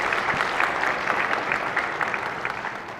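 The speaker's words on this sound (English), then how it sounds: "Please join us in applauding." Applause fills the Senate chamber, a steady wash of many hands clapping together, fairly loud and even throughout the clip.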